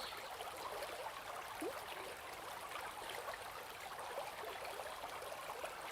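A gentle brook flows in a soft, steady wash of trickling water, faint and continuous with no voices.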